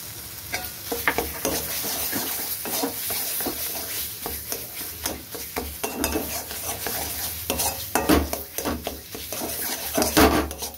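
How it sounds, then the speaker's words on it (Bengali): Onion, garlic and ginger masala for koraishutir ghugni being sautéed in a kadai until the oil separates: a busy sizzle with frequent scraping and knocking spoon strokes, close up. "এবার এটাকে ভালো করে কষিয়ে নেব"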